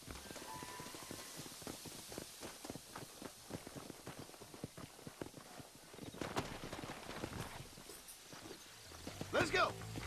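Horse hooves clip-clopping in the Red Dead Redemption video game, a steady run of hoof beats through most of the stretch. Voices and game noise sit underneath, and a burst of other sound comes near the end.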